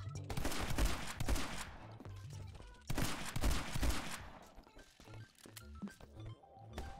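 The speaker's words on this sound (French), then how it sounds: "Je vous montre un peu le FAP, plus communément appelé fusil à pompe." Shotgun blasts fire in the action video game My Friend Pedro as repeated loud, booming bursts with a chaotic rattling tail, alone without talk.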